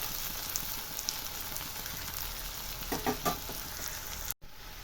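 Onions fry in a pan, giving a steady close sizzle and crackle throughout, with a few louder stirring scrapes near the end and no talking.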